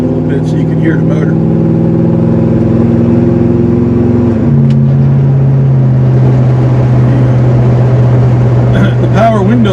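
Loud, steady engine drone of a 1972 Lincoln Mark IV Continental, whose pitch steps down partway through as it accelerates; a voice talks briefly over it near the end.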